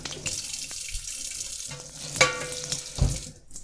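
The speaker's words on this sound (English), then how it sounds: "Washing my hands and the knife." Running tap water splashes into a sink while hands and a kitchen knife are rinsed, with brief clinks and knocks over the steady flow.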